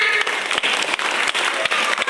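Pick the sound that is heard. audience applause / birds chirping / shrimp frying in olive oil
audience applause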